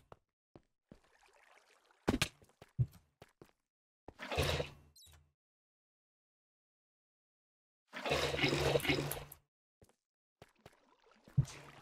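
Water is poured from a bucket in the Minecraft video game, bursts of rushing, splashing water arriving twice amid scattered clicks and block-placing taps, moderately near, with no talk.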